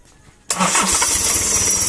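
A Mercedes-Benz C240 engine with a Korean transmission cranks and fires up after a short quiet moment, then settles into a steady, loud running idle close by.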